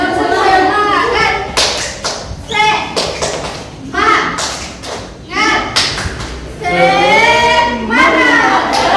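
Pupils in a classroom beat out the tepuk semangat spirit clap in short rhythmic bursts of claps and thumps, with chanting children's voices and a teacher's voice in between.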